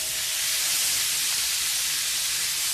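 Steady, loud sizzling hiss of green tomato, red tomato and green chili being stir-fried for oseng teri, a continuous bright frying crackle with no talk.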